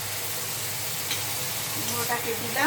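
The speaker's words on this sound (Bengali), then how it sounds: "এবার দেখুন এর ভেতরে এর সঙ্গে কুমড়োটাকে দিলাম" Pumpkin pieces dropped into hot oil in a pan, giving a steady, close sizzle and hiss with a few brief louder crackles near the end.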